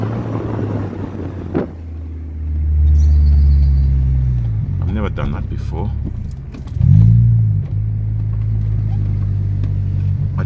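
An Audi S3 8L engine idles and revs outside the car, a steady low rumble that swells twice, with a brief spoken remark near the start.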